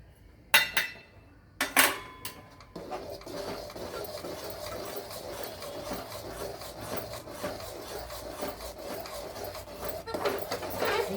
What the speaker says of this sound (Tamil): விடாமல் இப்படி கிளறணும்